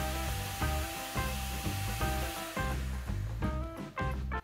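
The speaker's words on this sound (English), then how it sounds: "Oh, easy with a vacuum." A vacuum cleaner drawing dust off a large Australian wood burr, a loud continuous whine that repeatedly cuts in and out as the nozzle moves over the rough surface, no voices.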